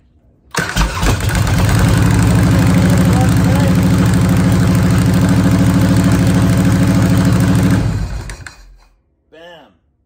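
A motorcycle engine cranks and fires up, then runs at a loud, steady idle close by for about seven seconds before it is cut off, leaving a short trailing sound.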